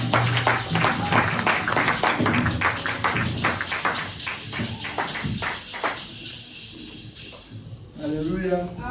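A church congregation at a Sunday service claps in a fast, dense patter with voices acclaiming over it, the clapping thinning out toward the end while talk continues.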